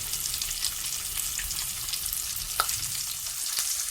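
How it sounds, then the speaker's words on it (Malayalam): Fish fries in a pan of oil with a soft, steady bubbling sizzle and a few faint crackles and stirring taps, fairly quiet and without voices. "ആ മീനൊന്ന് നല്ലതുപോലെ ഒന്ന് എണ്ണയിൽ കിടന്നൊന്ന് വെന്ത് വരട്ടെ"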